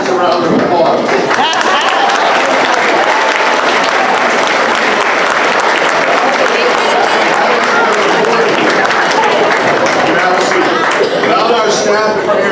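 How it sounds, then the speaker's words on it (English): Middle school students at an 8th grade academic awards ceremony give their parents sustained, loud applause, a steady wash of clapping from a large room that fills the whole stretch. "We'd like you to give your parents a round of applause."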